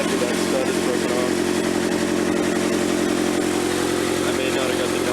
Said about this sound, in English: Sounds kind of loud. It's probably leaking pretty bad